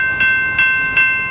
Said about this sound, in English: this crossing has a general signals type 2 bell